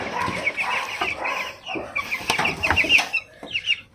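Several chickens cluck and murmur close by in quick, irregular bursts, with short sharp calls overlapping.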